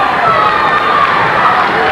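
Spectators at a 1998 Kansas high school wrestling match in the 140 lb class, a loud continuous crowd murmur and shouting filling the gym with no pauses.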